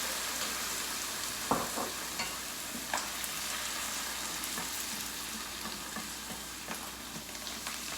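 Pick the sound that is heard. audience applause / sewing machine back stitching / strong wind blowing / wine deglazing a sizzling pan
wine deglazing a sizzling pan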